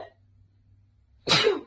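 A single sharp sneeze bursts out close by after a near-silent pause, loud and brief with a breathy, noisy tail.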